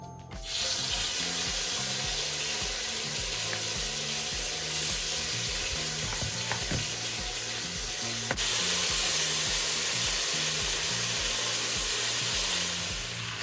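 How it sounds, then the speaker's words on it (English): Oxtail frying in hot oil: a loud, dense, continuous sizzling hiss that holds steady throughout without talk. "So it's all frying up nicely."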